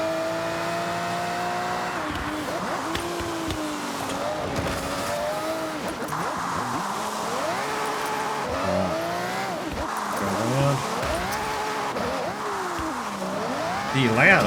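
Rally car engine in Forza Horizon racing game, reminiscent of a 90s Subaru, droning steadily with shifting revs and pitch sweeps over rough terrain, close and continuous, with someone talking over it throughout.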